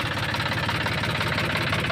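A Mahindra B 275 DI tractor engine idles with a steady low throbbing knock, loud and close, running continuously with no voices.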